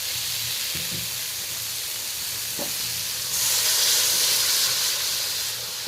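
Hot water poured into a pan of small local puti fish being cooked into a spicy chorchori produces a steady hiss and sizzle that swells louder partway through, alone with no voices.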